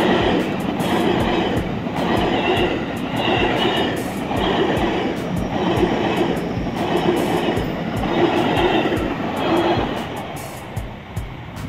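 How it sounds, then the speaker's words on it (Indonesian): A KRL Commuter Line electric train from the Kranji direction pulls into Cakung station, rumbling steadily and loudly up close, with regular clacking of wheels over rail joints. "Kereta api Brawijaya KRL Komuterland dari arah stasiun Kranji, persiapan masuk di stasiun Cakung."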